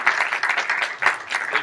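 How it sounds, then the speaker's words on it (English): A short burst of audience applause at a sports communication careers panel, fairly loud and close, with clapping in uneven surges that dip briefly midway. "how about a round of applause for Michael and the PRSSA for setting this up"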